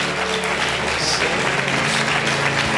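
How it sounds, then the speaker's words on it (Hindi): Congregation at a Catholic catechist retreat applauding for Jesus, a loud, even wash of clapping sustained for a few seconds with a low hum underneath. "Come on, give a big hand to Jesus."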